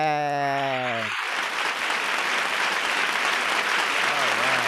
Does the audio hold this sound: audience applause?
yes